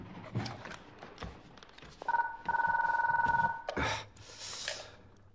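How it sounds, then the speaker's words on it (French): Telephone ringing indoors, a bright electronic trill that sounds once in a short burst, with a few thumps and small knocks around it. "Allez, occupe-toi du téléphone"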